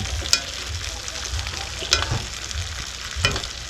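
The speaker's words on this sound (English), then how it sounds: "So I'm cooking the steaks now. I just put the butter in. I'm basting it." Thick steaks fry in butter in a pan while being basted, giving a constant close sizzle with three sharper scraping clicks spaced about a second and a half apart.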